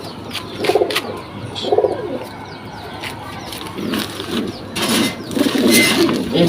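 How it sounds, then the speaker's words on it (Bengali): A domestic pigeon from 2022 coos in low throaty bursts, several spaced calls close by, with clicks and light movement noise in between. "2022 সালের একটা কবুতর"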